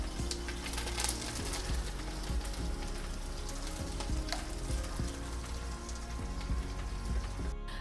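Green chillies and curry leaves fry in hot oil for a tempering for thin poha chivda, a dense, even, rain-like sizzle close up, with a faint rhythmic thump beneath and no talking.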